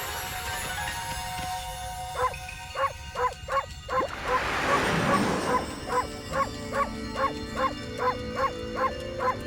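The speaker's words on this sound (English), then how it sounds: "That dog be barking." Rhythmic, repeated dog barks from the video game Okami, a steady series of evenly spaced yips before and after a brief burst of noisy rustling in the middle, with no talking.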